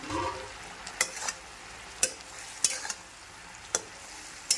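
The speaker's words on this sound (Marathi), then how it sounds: "आणि आता हे ड्राय मंचुरियन मिक्स करूयात" Dry Manchurian being tossed and stirred in a pan, with a low steady sizzle under four or five sharp, distinct spatula clacks against the pan at irregular intervals, close up and with no talk.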